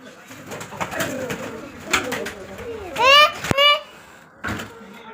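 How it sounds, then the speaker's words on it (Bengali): A pigeon coos clearly in two close calls, while someone talks nearby and a door knocks faintly. "দেখো পায়রা"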